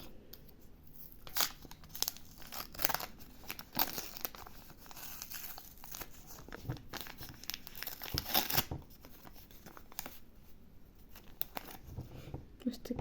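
Plastic or paper packaging crinkles and rustles in irregular bursts close by, with occasional sharper tearing crackles.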